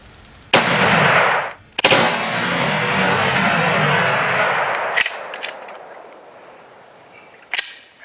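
A gunshot rings out during coyote hunting, a loud close blast followed by a long fading rumble, then a second sharp report and a few fainter clicks of handling.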